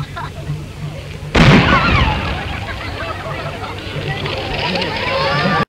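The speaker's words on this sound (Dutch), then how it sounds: "En ik schiet zo meteen het kanon af" A carnival cannon, the Mommeskanon, fired at a vastelavond celebration, one sudden loud boom cutting through a murmuring crowd, followed by sustained cheering and hubbub.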